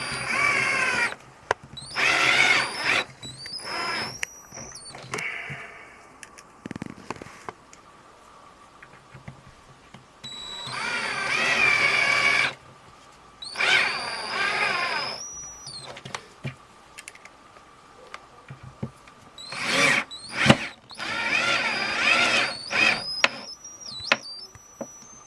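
A power drill whirs in repeated short bursts, starting and stopping as screws are driven, with clicks and handling noises between runs.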